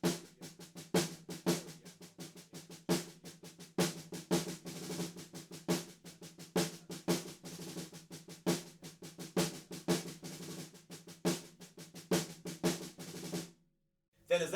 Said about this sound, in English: we've got this cool kind of snare roll